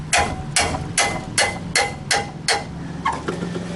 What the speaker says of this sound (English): I'm just going to put the hammer to it.